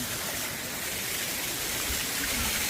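Icy mountain waterfall water rushes steadily out of pipes in a Himalayan valley, a dense, loud, continuous broadband gush without pauses.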